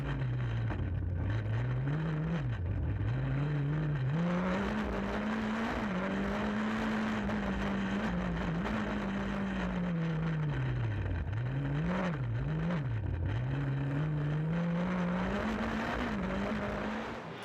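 Skoda S2000 rally car engine droning loud and close on a rally stage in Spa, pitch rising and falling with gear changes and throttle lifts throughout, no voices.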